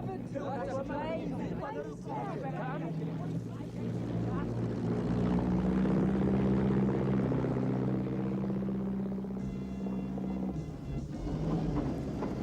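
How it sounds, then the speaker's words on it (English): A Harvard propeller plane flies overhead, its droning engine rising to a steady hum under excited talk, then fading. "Look, it's a Harvard. It's a plane."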